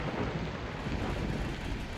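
A low, steady rumble of thunder rolls beneath a constant hiss of rain, with no voices.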